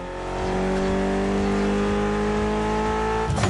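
A Mitsubishi Evo in The Crew Motorfest holds a steady, buzzy engine drone at a sustained pitch, loud and continuous, with a brief rise or gear change at the very end and no talking.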